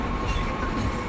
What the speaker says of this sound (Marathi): हाय, आम्ही आता ट्रेनमध्ये बसलो आहे.